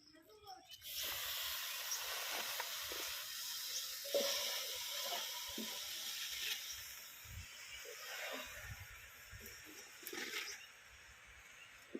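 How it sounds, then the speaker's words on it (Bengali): Malabar spinach leaves steaming and sizzling in a wok: a continuous close hiss with occasional soft stirring clatter throughout. "এবার কড়াইতে পুঁই শাকের পাতাগুলো দিয়ে পাতাগুলো ভালোভাবে ভাপিয়ে নেবো"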